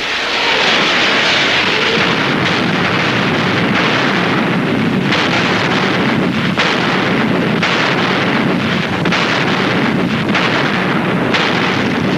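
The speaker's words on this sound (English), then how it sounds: "Zhukov's long-range artillery opened fire on the city" Long-range artillery fires on Berlin in a continuous, loud, dense roar of booms and rumbling that rises and falls slightly without pause, with no voices.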